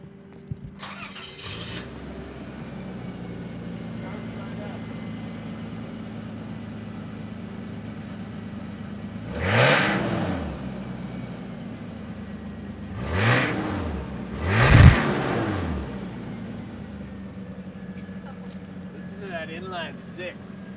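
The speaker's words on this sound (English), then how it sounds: "Inline six. That is a sweet sounding engine." An inline six engine in a Toyota Land Cruiser idles steadily, then revs in three sharp blips that rise and fall, heard from behind the vehicle with people talking nearby.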